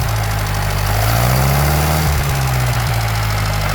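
An Atomic 4 inboard boat engine with a rebuilt reduction drive idles with a steady low throb, then revs up briefly around the midpoint and settles back to idle, loud and close with no talk.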